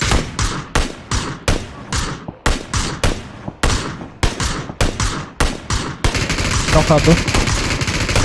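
An M249 machine gun firing in PUBG during a three-player squad match: a string of sharp, loud bursts separated by short gaps, then a denser stretch of gunfire, with players talking briefly.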